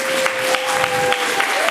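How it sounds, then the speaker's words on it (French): A television studio audience gives a short burst of applause as a guest enters, a dense, moderately loud patter with a few sharper claps and a faint steady tone running underneath. "Je pense qu'on peut bien l'applaudir hein,"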